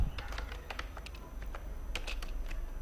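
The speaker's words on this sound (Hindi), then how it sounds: "एंटर का बटन प्रेस करके यहाँ पे लिखते हैं" Keys clatter on a computer keyboard while a name and class label are entered for a notebook cover design, with irregular close taps and a few firmer strikes over a low steady hum.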